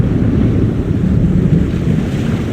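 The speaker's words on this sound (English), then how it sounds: "It is a chaos storm. A strong storm caught in a magical vortex" Howling wind of a magical chaos storm in The Longest Journey, a steady loud roar with deep rumbling gusts and a surf-like wash, continuous and without voices.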